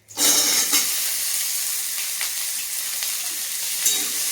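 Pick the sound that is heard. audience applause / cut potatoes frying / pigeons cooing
cut potatoes frying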